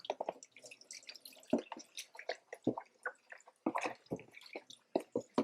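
A sculpting tool is rinsed in water, giving quiet, close drips, small splashes and wet squishes in an irregular patter with short pauses between them.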